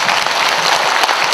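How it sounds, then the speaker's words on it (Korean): An audience at a civic association's founding rally claps together in a brief, dense burst of applause, loud and close, filling the whole moment. "동의하시면 한번 박수 쳐주시기 바랍니다."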